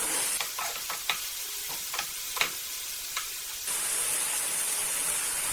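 Goat intestines fry and get stirred in a pan for a Kerala-style kudal fry, with a steady sizzle under a run of sharp scraping strokes. The frying hiss swells louder and brighter toward the end.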